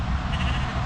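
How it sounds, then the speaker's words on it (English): A single short, close bleat from goats along a riverside cycle path, loud and wavering, heard alone. "Look at the goats."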